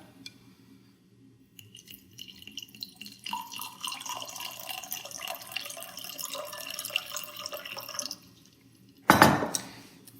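Cold water pours steadily into a glass with a tea bag, with a bright trickling and rising fill sound, followed by a brief clink near the end.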